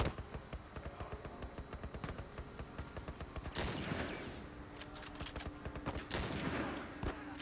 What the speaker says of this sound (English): And then when this guy starts firing,